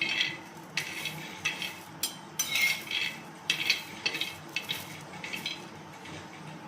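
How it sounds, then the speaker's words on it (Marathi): Peanuts dry-roasting on a tava griddle pan, stirred with repeated scraping and rattling strokes in irregular bursts over a soft, steady background hiss, close and moderately loud. "आता इथे मी तव्यावर थोडे शेंगदाणे भाजून घेणार आहे."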